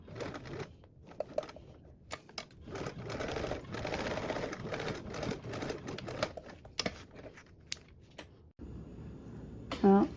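A sewing machine top stitching a seam with a narrow eighth-inch allowance along fabric panels for a small Drac Pack bag, running in short irregular clattering bursts with pauses, a voice speaking between stretches of stitching.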